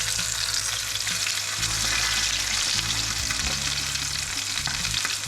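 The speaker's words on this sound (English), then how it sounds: "Press it down so we get a really good sear." A 28-day dry-aged beef steak sears in a hot pan with a loud, steady sizzling hiss, close and continuous, with a low hum underneath and no speech.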